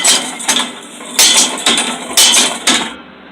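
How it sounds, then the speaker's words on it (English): A homemade foot-operated treadle hammer built for blade making at a home forge strikes about five times in a loose rhythm, each loud, close metallic clank ringing briefly before the next. "I built that. It's a treadle hammer."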